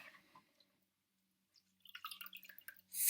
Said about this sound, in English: put the little sponge in the water and squeeze